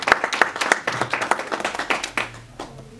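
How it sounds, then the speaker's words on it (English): A forum audience at a counter human trafficking event in Rwanda breaks into brisk applause, with many hands clapping in a dense, even patter that fades out after about two and a half seconds. "So let's also clap."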